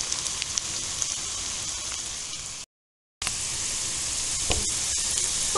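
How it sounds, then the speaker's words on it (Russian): Steady, hissing sizzle of potatoes frying in a pan, close and continuous, with a brief break of silence midway. "Вот мы продолжаем ее жарить."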